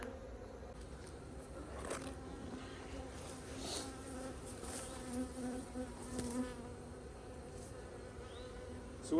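Honey bees buzz densely around an open single brood box hive, a close, continuous droning hum with individual bees zipping past the listener, fairly quiet overall.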